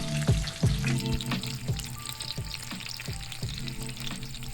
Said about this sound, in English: You can fry them till however crispy you like.